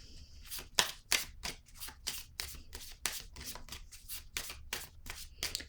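Tarot cards are shuffled by hand in rapid, crisp riffling bursts, about a dozen quick flutters in a row, close and alone with no talk.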